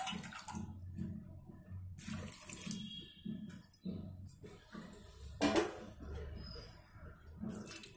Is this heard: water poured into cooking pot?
yes